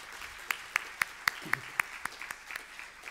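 Sparse audience clapping at a 2018 Bricsys software conference session, a handful of distinct sharp claps in a slow, fairly even rhythm, with a faint room murmur underneath.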